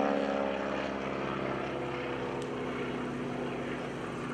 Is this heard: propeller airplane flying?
yes